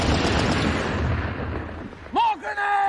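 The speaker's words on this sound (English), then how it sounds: "Those fools, they're right under those machine guns." Dense war-scene gunfire, rapid machine gun bursts and booming reports, fades off before a loud shout cuts in near the end.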